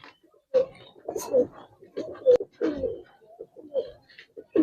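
Pigeons of Giribaz and coloring breeds coo in a loft, a series of close, throaty, rolling coos in uneven bursts with short pauses between them, heard alone.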